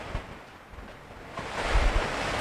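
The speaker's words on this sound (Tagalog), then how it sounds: "Yan ang lakas ng ulan, grabe." Broad rushing noise of heavy typhoon rain and gusting wind in Bulacan, Philippines, swelling louder in the second half, with low buffeting thumps.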